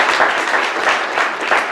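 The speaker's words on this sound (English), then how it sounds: "Round of applause for him," Audience at a tech meetup applauds a guest, a dense loud wash of clapping that holds steady throughout without a break, with little else beneath it.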